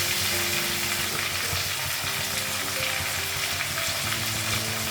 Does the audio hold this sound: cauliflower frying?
yes